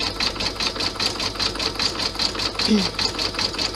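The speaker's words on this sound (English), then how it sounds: "After the satin stitch has finished, it will do an inside bean stitch." An embroidery machine stitching an inside bean stitch on a clutch project, a steady, fast rhythmic mechanical whir and tapping heard close up, with brief faint sounds alongside.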